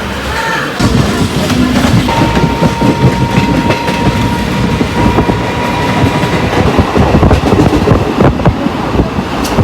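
Non-AC local passenger train running at speed, a loud, steady rumble with repeated clickety-clack rail joints and rattling carriage noise filling the whole stretch, heard from inside the coach.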